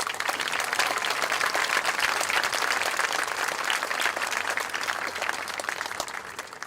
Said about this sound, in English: Please give all special guests a round of applause.